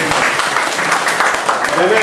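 Continuous crowd applause at a church gathering, dense and loud, with many hands clapping at once and some voices mixed in underneath.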